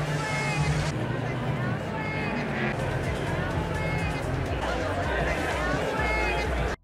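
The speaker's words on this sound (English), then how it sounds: "It's just an ambient track of crowd noise that's looping" Looping ambient crowd murmur from the Hitman video game: dense, steady babble of many indistinct voices, continuous and evenly loud throughout, with no single voice standing out.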